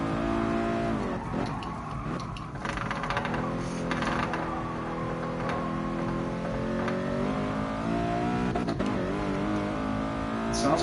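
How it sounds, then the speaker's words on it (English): Nissan R32 GT-R in GT Sport on the Tsukuba circuit, its engine droning and revving steadily throughout with shifting pitch, sounding strained as it climbs, no talk over it. "It's not a very powerful car, but I feel like the engine's struggling to rev."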